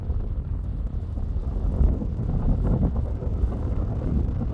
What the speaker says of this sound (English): It's a bit windy today, chilly.